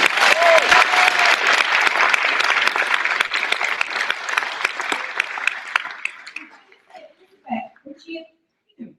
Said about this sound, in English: So can we give a big round of applause for Ross Reed?